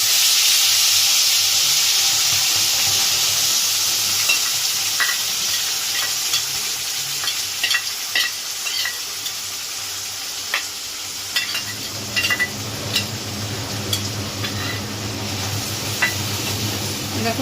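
A ginger, onion and garlic paste fries with meat in a pan, a loud steady sizzle and hiss that eases slightly while scattered stirring clicks and scrapes come through.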